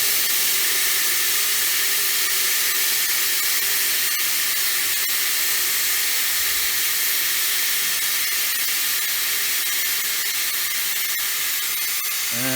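Homemade steam boiler hissing steadily at around 10 to 15 psi, a loud continuous broadband rush of escaping steam lasting throughout with no talk.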